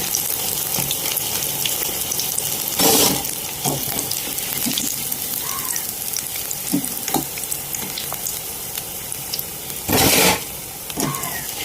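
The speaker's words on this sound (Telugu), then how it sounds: "ఇప్పుడు ఇవి మనకి బాగా వేగిపోయాయి, మంచి కలర్ వచ్చాయి కదా" Stuffed capsicum bajji frying in hot oil, a steady close sizzle with bubbling, broken by brief louder bursts of splashing or running water.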